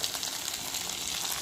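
Potatoes and green vegetable shoots frying in oil in a pan, giving a steady, even sizzle that holds at a constant level throughout with no voices.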